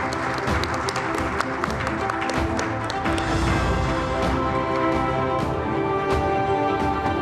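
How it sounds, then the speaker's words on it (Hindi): Applause from an audience at a televised political conference honouring a defence minister, a dense continuous wash of clapping with some crowd noise, steady and full throughout. "तालियां रुकनी नहीं चाहिए।"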